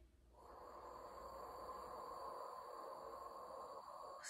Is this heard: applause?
no